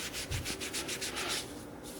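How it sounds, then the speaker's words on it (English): Kinesio tape being rubbed onto the hip to set the adhesive, a rapid series of soft, dry scratchy strokes in a quick rhythm, close and fairly quiet. "A little bit of rub to help with the adhesion."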